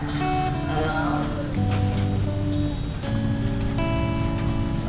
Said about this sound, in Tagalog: Umuulan lang.